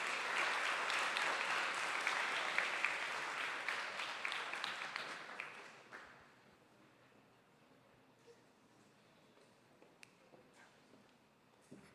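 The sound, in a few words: audience applause after keynote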